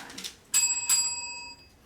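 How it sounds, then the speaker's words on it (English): Two bright metallic bell rings at a debate competition in quick succession, close by, each leaving a ringing tone that fades slowly, with faint talk just before. "And a double bell will sound at the speaking time."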